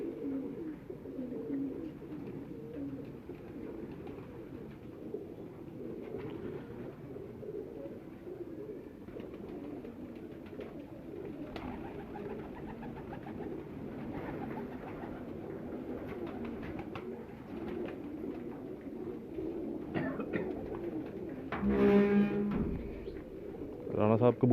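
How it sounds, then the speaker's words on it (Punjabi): Pigeons coo in low, repeated throaty murmurs throughout, close and fairly quiet, with people talking over them and a louder burst of voices and handling near the end. "ਰਾਣਾ ਸਾਹਿਬ ਕਬੂਤਰ ਲੈ ਕੇ ਆਏ ਨੇ"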